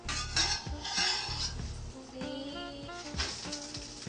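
A utensil clanks and scrapes against a pan as food is flipped, several close metallic knocks and clinks over a low kitchen background, no voices.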